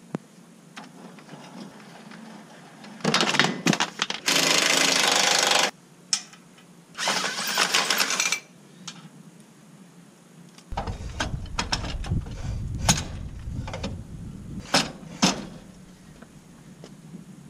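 Big Horn electric trailer jack lowering a trailer onto a hitch: a steady motor hum broken by loud grinding bursts, then a run of irregular clicks, ratcheting and metallic knocks, close up with no speech.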